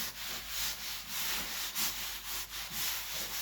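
An old oily rag rubbed over fiberglass to coat it with release oil: steady, close swishing friction in repeated strokes of even loudness, alone with no voices.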